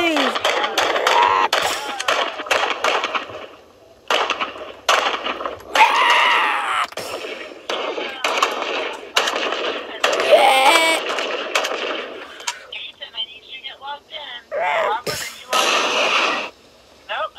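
Rapid gunfire in a Lego zombie defense game, dense bursts of loud close shots mixed with excited talk and game noise throughout.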